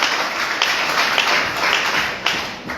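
Applause and clapping from a congregation during a church service, a dense, steady wash of many hands that rises and falls slightly, fairly loud and continuous with no speech.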